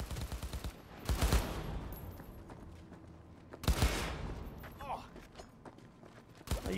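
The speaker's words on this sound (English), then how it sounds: "you can now go and basically just ping all these guys with bullets if you wish to." Gunfire in the video game Cyberpunk 2077, heard as a few loud, sharp bursts spaced a couple of seconds apart over a busy game background, with faint speech in places.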